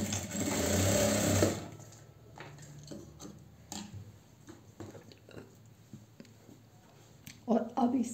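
A sewing machine stitching a velvet doll dress edged with lace runs loudly in a fast, steady whir for about a second and a half, then stops, leaving faint handling taps and rustles.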